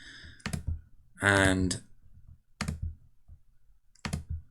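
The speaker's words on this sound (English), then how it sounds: "so I'm going to control click all of these" Several distinct computer mouse clicks while control-clicking objects in FreeCAD, sharp and close, spaced out in an uneven rhythm, with a brief spoken word in between.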